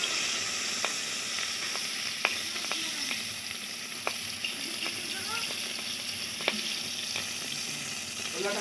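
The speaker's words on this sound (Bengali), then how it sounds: "এবার এই কাতলা মাছটা কড়াতে দেবে।" Catla fish fry in oil in a wok, giving a continuous crackling sizzle with scattered sharp pops and spatters throughout, fairly close and without speech.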